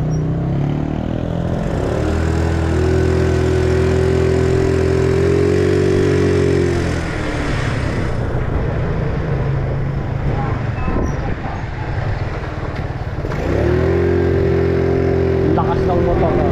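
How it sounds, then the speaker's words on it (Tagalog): Loud motorcycle engine running close by, a steady droning rumble that revs for several seconds, drops back, then rises again near the end, with voices talking over it. "Lakas ng motor."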